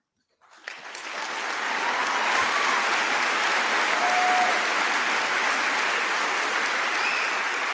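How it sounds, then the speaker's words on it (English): A large crowd at a live event bursts into cheering and applause that swells quickly and holds as a loud, dense, sustained roar of clapping. "And they cheer"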